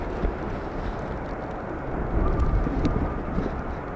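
An Airbus airliner arriving at Amsterdam Schiphol on runway 18R in rainy, windy weather, a steady broad low rumble of engines blended with wind noise, swelling slightly louder in the second half.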